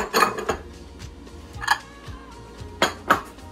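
A utensil scrapes and clanks against a bowl as walnuts are mixed into oatmeal raisin cookie dough, irregular close clinks and knocks in quick bursts with dull scraping between them.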